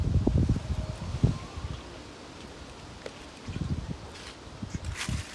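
Gusts of strong wind sweep through young banana plants on a farm, with bursts of rustling leaves and rumbling wind buffeting that rise and fall in uneven waves.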